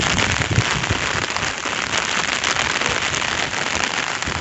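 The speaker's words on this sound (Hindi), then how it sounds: "बहुत तेज बारिश आ रही है" Heavy rain in Siwan, Bihar, pours down steadily with wind, a dense, constant roar of drops hammering a surface close by, with no voices.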